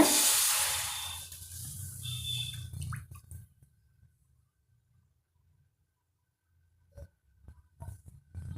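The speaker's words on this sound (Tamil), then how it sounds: "இப்போ நம்ம இதில் தண்ணி சேர்த்துடலாங்க" Water poured into a hot pan on a stove while making honey candy, giving a loud steaming hiss at first that fades into quiet, then a few faint clinks and drips.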